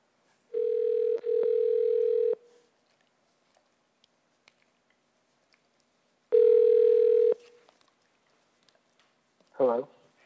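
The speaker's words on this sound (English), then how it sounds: "Kevin, if you hear the phone ring, pick it up." A telephone rings in two long electronic bursts separated by a pause, loud and clear in a quiet room, followed by a short voice at the end.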